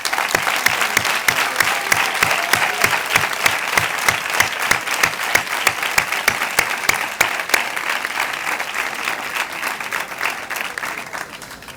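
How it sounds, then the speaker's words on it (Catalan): Loud, sustained audience applause at a school graduation ceremony in Vila-real, many hands clapping in a strong, steady crowd sound, with some claps falling into a near-rhythmic beat. "Un fort aplaudiment també per a ell."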